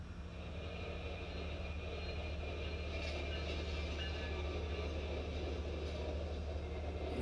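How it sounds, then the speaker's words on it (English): A train rumbles steadily past at close range, only inches away, a loud continuous roar of wheels and engine with no voices. "the train blazes by with only inches to spare"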